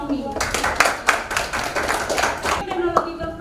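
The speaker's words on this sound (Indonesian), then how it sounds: "Tepuk tangan buat Naomi" A small classroom group claps for a student, a short burst of distinct, fairly close hand claps in a loose rhythm, tapering off after a few seconds.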